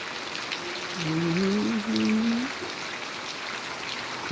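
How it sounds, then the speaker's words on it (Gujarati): Heavy rain pours in Dera village in a steady, even hiss throughout, while a voice briefly hums a wavering tune partway through. "ડેરા ગામમાં વરસાદ બહુ ચાલુ છે"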